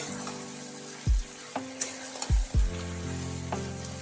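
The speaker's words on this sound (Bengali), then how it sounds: "বেশ কিছুক্ষণ ধরে কিন্তু রান্না করে যেতে হবে ভালোভাবে কষিয়ে নিতে হবে" Mustard paste sizzling in a pan as elephant foot yam stalks fry, a steady crackling hiss broken by several sharp stir-and-clatter knocks, close and alone with no talk.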